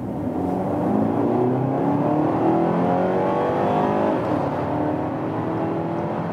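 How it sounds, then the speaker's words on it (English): A BMW X1 M Sport with automatic gearbox accelerates hard in sports mode, its engine note climbing steadily through the revs over several seconds, loud and continuous from inside the car with no talking. "I can then accelerate out."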